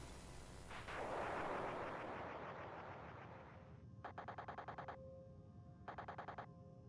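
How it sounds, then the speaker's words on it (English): Retro-style explosions from the Missile Command minigame in the video game Fallout 4: a long rumbling blast, then rapid rhythmic bursts of crackling electronic pops in two clusters. "Bethesda actually made a good version of Missile Command for us."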